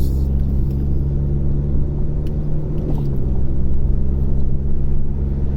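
A car rolls along the road on Ohtsu tires, giving a loud, steady low rumble of tire and road noise inside the cabin, with no speech.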